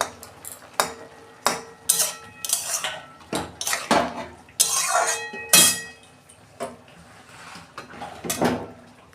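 Boiled green chillies and potatoes tipped out of a cooking pot, with a run of metallic clanks, scrapes and knocks of the pot and utensils, close and uneven.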